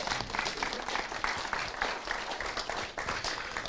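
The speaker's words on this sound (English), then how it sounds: "Let's give him one more big round of applause." A crowd applauds steadily, a dense wash of clapping hands that holds loud and even for several seconds.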